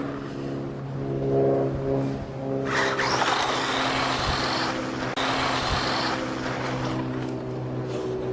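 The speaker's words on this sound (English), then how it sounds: "That was my first crash. My first flip." A small Jada RC Batmobile toy car whirs and revs as it drives, then a sudden louder clatter of crashing and flipping, followed by continued motor whine.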